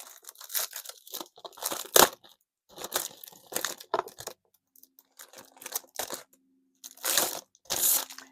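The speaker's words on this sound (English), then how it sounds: "get that crinkling out of the way" Plastic packaging from a planner subscription box crinkled and torn open in close, irregular bursts of crackling, separated by brief quiet gaps.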